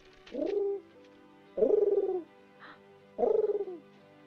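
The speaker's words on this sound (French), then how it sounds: "Tu as un pigeon sur l'épaule." Three low, rolling coos from a pigeon perched on a person's shoulder, evenly spaced and fairly close, with quiet pauses between them and no talking.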